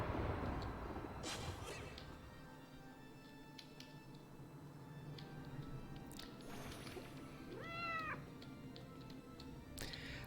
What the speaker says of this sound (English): I hear kitty kitty.